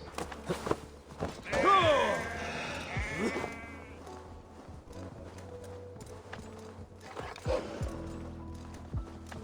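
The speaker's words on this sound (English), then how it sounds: "Look at all these sheeps." Sheep in Assassin's Creed Valhalla bleat in several wavering calls close by, mixed with clip-clop hooves and soft ambient game sound, one loud bleat early and quieter ones later.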